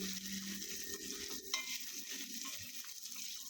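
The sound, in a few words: dry roasting fresh coconut in pan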